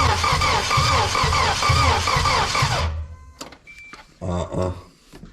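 A car engine cranks steadily during a compression test, a loud rhythmic starter churn lasting about three seconds before cutting off, followed by quieter clicks and a brief voice.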